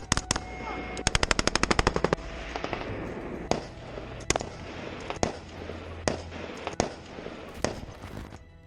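Machine gun fire during an assault on a compound: rapid automatic bursts early on, then scattered single loud shots and short volleys spaced across the stretch, close and sharp against a rumbling background with no talk.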